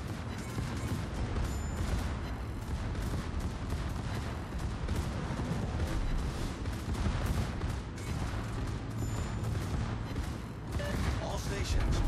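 Warship gunfire in World of Warships, played aboard the Schlieffen, with continuous rapid salvos and booming shots packed densely for the whole stretch, loud and sustained, under an automated voice calling out orders.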